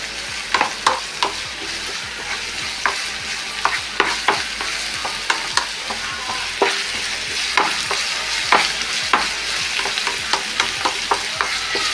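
Crushed ginger, garlic and curry leaves frying in oil for a simple egg curry, a dense continuous sizzle broken by frequent sharp spatula taps and scrapes against the pan, close and steady with no voices.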